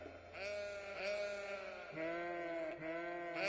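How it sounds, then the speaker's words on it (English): Sheep on a farm in the Cities: Skylines video game bleat in a steady chorus of overlapping, wavering calls, loud and close, with several bleats following one another across the stretch and no talking. "Look at all these sheep."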